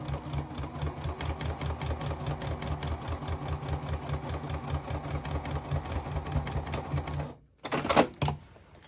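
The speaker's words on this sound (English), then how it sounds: "And just sew that entire opening closed." A sewing machine stitches an opening closed at a steady, rapid mechanical chatter for about seven seconds, then stops briefly before a short burst of handling noise.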